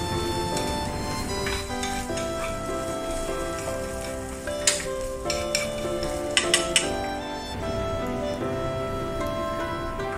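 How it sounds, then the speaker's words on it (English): Sliced onion sautéing in a pan until soft and lightly caramelized for chicken katsudon, a low continuous sizzle with a few sharp clinks of utensil against pan, under steady background music. "Saute the onion until it is slightly caramelized and soft."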